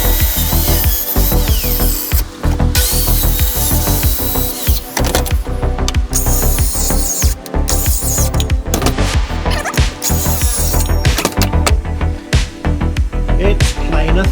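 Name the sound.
planer thicknesser machining wood for chair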